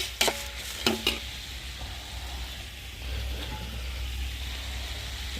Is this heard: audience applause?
no